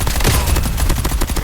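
Rapid volleys of gunfire ring out in a shooting video game, including sniper shots, a dense, loud burst of repeated cracks that keeps going for the whole stretch.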